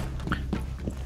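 Footsteps in Rainbow Six Siege coming up a staircase, a few quick, muffled thuds in a short uneven rhythm over a constant low background hum.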